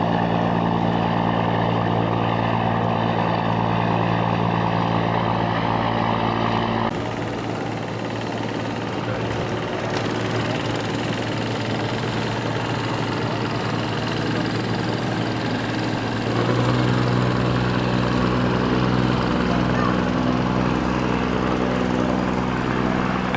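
A high-speed ferry's engines drone loudly and continuously on a ride to Koh Lipe in southern Thailand, a steady heavy hum that shifts in tone partway through, with no voices.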